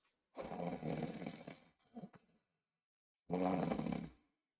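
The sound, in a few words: imitated snoring through the nose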